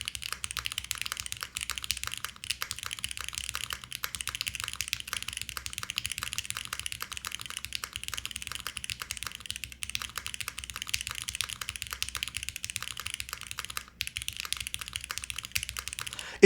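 Steady, continuous typing on a KBD8x MKIII mechanical keyboard fitted with Harmony linear switches, a dense stream of close, fairly loud clacks with no pauses and no talking.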